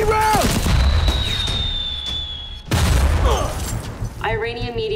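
A droid's gun fires grenade rounds in a sci-fi action scene: two heavy booms with whistling, rumbling aftermath, cut among dramatic trailer sound and a brief voice.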